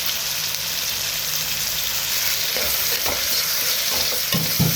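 Ingredients for carrot rice sauté in a hot pan with a steady, loud sizzle, while a spoon stirs and scrapes through them in a few light knocks near the end.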